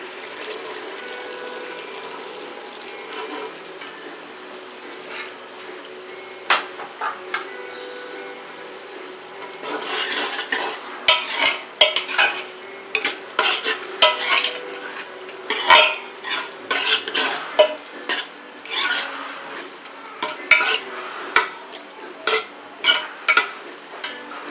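Metal utensils clink and scrape against a pan as boiled chickpeas are added and stirred for chana pulao, with irregular sharp knocks growing busier and louder partway through.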